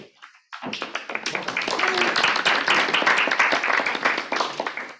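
After a brief silence, a dense, loud burst of audience applause fills a church forum on racial reconciliation held by an Episcopal diocese, many hands clapping together without pause.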